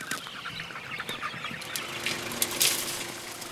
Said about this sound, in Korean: 닭이 자그마치 500마리라